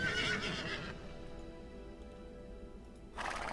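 A horse whinnies in the game Warcraft 3, a short neigh at the start fading into quieter game sound before a burst of noise returns at the end.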